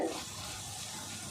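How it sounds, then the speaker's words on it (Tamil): Steady hissing sizzle of curry leaves frying in hot oil, close and continuous, with no voices. "அதில் அப்படியே கொஞ்சம் கருவேப்பிலை மாத்திரம் வறுத்து போட்டு"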